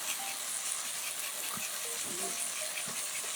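Minced garlic sautéing in a pan for Japanese chicken katsu curry gives a steady, soft sizzle throughout, with a few faint scrapes of stirring over it.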